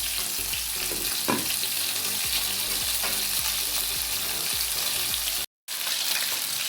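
Jamaican-style curried goat mutton bubbles and sizzles in a pot with boiling water, giving a steady close frying hiss with small stirring clicks and a brief dropout near the end.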